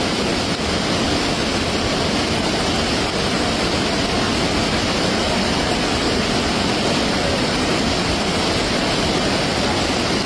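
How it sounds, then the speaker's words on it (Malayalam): Rising monsoon flood water rushes down a hill stream, a loud, continuous broadband roar that never lets up, with no voices over it. "വെള്ളം കൂടി വരികയാണ് കേട്ടോ ഫ്രണ്ട്സ്"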